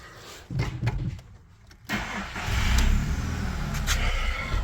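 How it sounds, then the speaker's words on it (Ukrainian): A car with a 1.6 BFQ/AVU petrol engine is started: a short cranking whir, a brief lull, then the engine catches and settles into a steady, close idle. "Тепер заводимо автомобіль."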